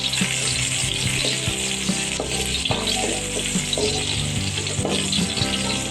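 Onion sizzling steadily in a pan while cooking squid adobo, a dense close frying hiss with occasional clinks and stirring knocks.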